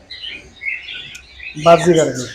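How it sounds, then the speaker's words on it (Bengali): At a pet bird farm with many cockatiels and other caged birds, high chirps and tweets trill for the first second and a half, then a louder voice talks over the birds. "ভাইয়ের কাছে কোকারেল পাখিগুলো একটু বেশি পরিমাণে আর অন্য অন্য পাখিও আছে এখানে"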